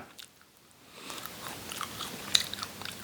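Close, crisp bites and chewing on a piece of dried honey lemon made from whole lemons, with small irregular crunches that get busier after the first second and one sharper crack midway, no talking.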